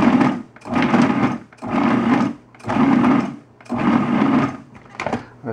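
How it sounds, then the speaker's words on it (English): A food processor cuts butter and shortening into flour in five loud, steady motor pulses, each lasting about a second with short silent gaps between them. "Let's cut this butter and shortening into the flour real fast. This is why the food processor is so handy."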